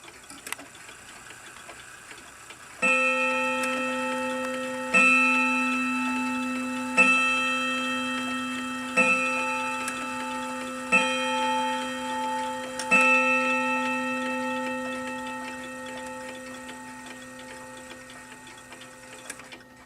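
An antique clock in a home collection ticks with a steady, loud, close beat about every two seconds, each tick ringing on over a sustained metallic hum, with no talking.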